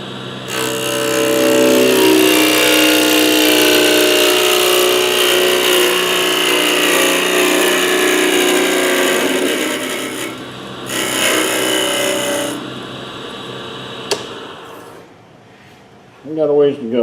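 A big bowl gouge cuts into a spinning wood blank on a lathe, giving a loud, steady rasping scrape for about ten seconds that fades as the cut stops, while someone talks.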